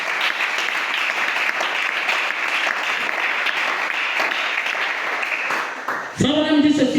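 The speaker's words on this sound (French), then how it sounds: "Acclamez pour le Seigneur Jésus" A church congregation applauds and acclaims the Lord Jesus, a dense, steady wash of clapping for about six seconds before a voice cuts in loudly at the end.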